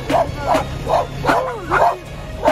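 Several dogs barking outdoors at night in Antigua, repeated sharp barks roughly every half second at moderate distance, with a yip or whimper mixed in.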